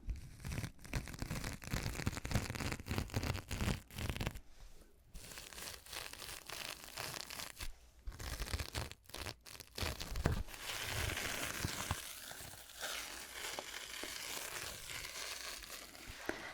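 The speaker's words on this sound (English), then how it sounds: "It's like a crinkly plastic bag or something" A plastic bag is crinkled and crushed close up by fingers in an ASMR setting, a continuous dense rustle and crackle with brief pauses and bursts of crunching, no talking.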